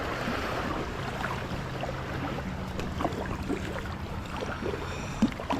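Paddles stroke through ocean water from a small boat, with soft splashes and sloshing over a steady wash of waves and wind, fairly distant and low, with no talking.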